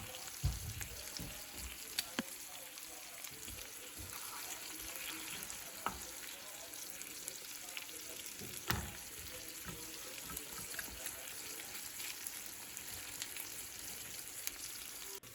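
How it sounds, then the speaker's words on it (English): Scrambled eggs frying in a pan give a faint, steady sizzle, broken by occasional soft clicks and scrapes of stirring, with no one speaking. "while the scrambled eggs are cooking a little bit more"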